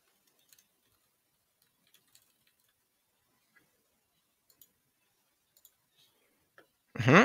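Faint, sparse keyboard and mouse clicks from someone building a website, a few isolated taps spread across several seconds of near silence, then a sudden loud, close burst of sound at the very end.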